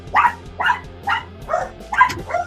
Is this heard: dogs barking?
yes